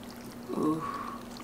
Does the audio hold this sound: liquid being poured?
yes